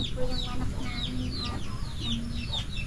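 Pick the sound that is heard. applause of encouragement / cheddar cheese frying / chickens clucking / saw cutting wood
chickens clucking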